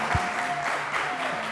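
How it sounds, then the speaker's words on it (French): A game show studio audience claps for the contestants in brief, dense, steady applause. "Public, s'il vous plaît, un peu plus d'applaudissements pour nos candidats."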